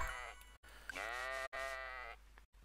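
A sheep bleats twice in a row, clear and close, each call wavering and drawn out with short gaps between, alone with no talking.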